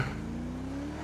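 A truck engine revs while the truck is driven on a street patrol, giving a steady, close droning growl whose pitch climbs smoothly throughout a brief moment, with no voices.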